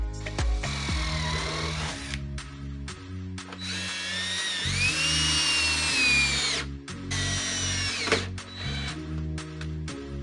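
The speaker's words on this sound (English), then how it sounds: "this tapered drill bit with a countersink" A power drill with a tapered countersink bit drives screws into wood while building a floating shelf, its motor whining in several long bursts that rise and fall in pitch, separated by brief pauses and clicks.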